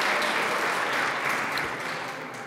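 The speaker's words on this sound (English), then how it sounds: "So another round of applause for our police department." Applause for a police department at a city's state of the city address: a crowd claps steadily and densely, then tapers slightly near the end.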